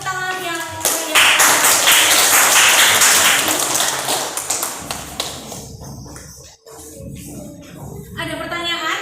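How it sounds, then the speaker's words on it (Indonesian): Classroom applause after a student group presentation: a burst of dense hand clapping from many pupils that swells, holds for several seconds, then thins out into scattered claps and voices near the end. "kita beri tepuk tangan yang meriah"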